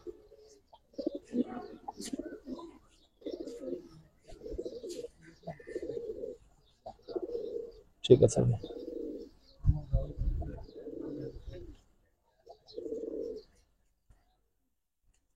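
Giribaz pigeons coo in a series of short, close repeated bursts with brief pauses between them, and a voice speaks briefly among the calls.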